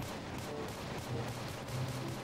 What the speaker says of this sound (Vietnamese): Súng cũng không bắn xuyên được luôn.